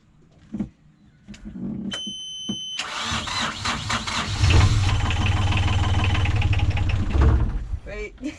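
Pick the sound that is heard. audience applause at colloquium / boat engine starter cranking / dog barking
boat engine starter cranking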